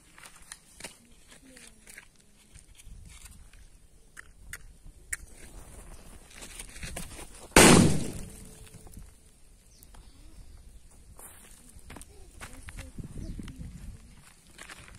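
A sutli bomb firecracker goes off outdoors during Diwali firecracker testing: one sharp, loud blast midway that quickly fades, with people talking before and after.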